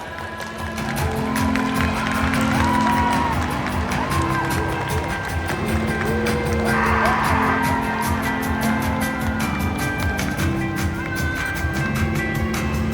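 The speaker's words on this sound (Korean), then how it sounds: "입장하실 때 뜨거운 박수 부탁드립니다." A large crowd cheers and applauds steadily throughout as the cast of the Korean film 20th Century Girl enters, a busy wash of voices and clapping; music or a low hum runs underneath.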